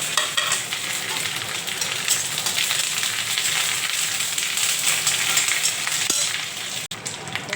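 Mustard seeds, curry leaves and dried chillies sizzle loudly in hot oil, a dense continuous crackle close up, with a short knock and a brief dip near the end.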